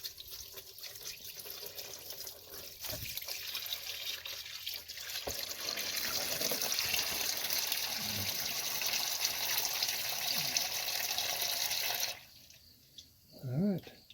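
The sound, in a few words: transmission fluid draining from 2008 Honda Odyssey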